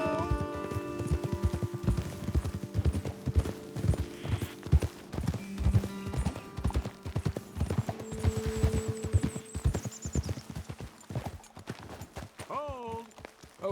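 Horses' hooves clip-clop in a steady walking rhythm in the Red Dead Redemption 2 video game, close and clear, with background music and a horse whinnying near the end.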